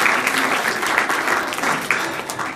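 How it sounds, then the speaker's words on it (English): Loud, dense applause from a conference crowd at an FBLA state conference welcoming a youth motivational speaker to the stage, a continuous wash of clapping with no break. "Please give him a round of applause for Mr. It's Possible, Quentin Whitehead."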